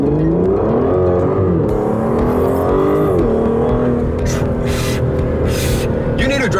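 An Aston Martin pulls away hard in first gear, its engine note climbing loud and close in a sustained rising roar with brief dips as revs shift, a voice talking over it inside the car.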